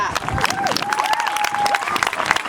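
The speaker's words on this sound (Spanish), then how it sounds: "un forte aplauso para Antía." Audience applause after a child's song at a children's singing contest, an even patter of clapping with a few cheers and crowd voices mixed in, brief and fairly close.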